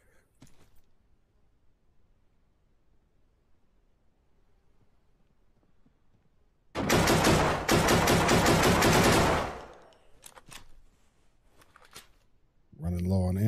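A long burst of AK rifle fire in the video game Deadside, loud and close, roughly three seconds of rapid automatic shots after a quiet stretch, followed by a few isolated clicks and a voice at the end.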